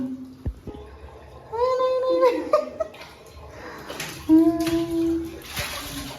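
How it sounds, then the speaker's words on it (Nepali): Water runs into a container for bathing during Holi festivities, a splashing pour that rises and falls, mixed with voices, a child's chatter and laughter. "म चाहिँ पानी भर्दैछु"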